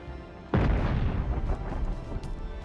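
Dune: Awakening explosions, one abrupt heavy boom followed by a sustained rumbling roar with further muffled blasts and crackles trailing off, loud and without talking.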